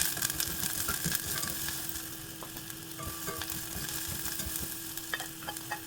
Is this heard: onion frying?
yes